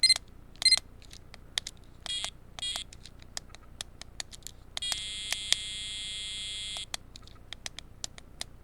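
Electronic buzzer of a Vexas personal organizer sounding a series of short, sharp beeps, then a sustained two-second tone and more scattered beeps, close and clear against a quiet background.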